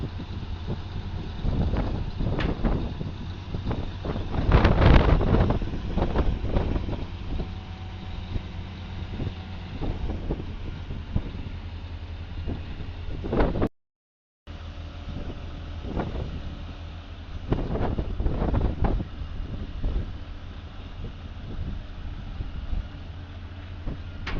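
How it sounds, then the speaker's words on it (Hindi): Strong wind gusts buffet the microphone at a container unloading site with a crane in Makkah, heavy low roaring rushes rising and falling repeatedly, with a brief dropout in the middle. "हवा बहुत तेज़ चल रही है जी।"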